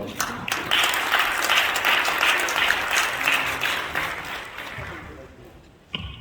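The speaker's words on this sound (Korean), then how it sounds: "크게 박수로 맞아주시면 감사하겠습니다." Audience applause welcoming a professor to the stage at a church revival seminar, a sustained burst of clapping from a crowd that fades over several seconds, ending with a brief clatter near the close.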